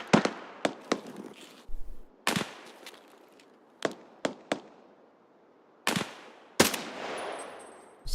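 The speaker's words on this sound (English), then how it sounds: "What's that sniper shooting at?" Sniper and rifle fire in the video game Escape From Tarkov rings out as sharp, loud separate shots with echoing tails. About a dozen cracks come at irregular gaps, some in quick pairs, with no talk over them.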